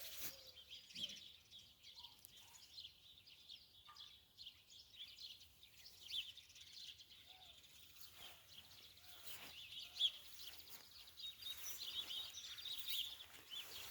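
Faint, scattered bird chirps in the distance over a quiet outdoor background in a spring garden, with occasional brief tweets.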